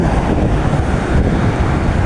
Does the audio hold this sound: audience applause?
no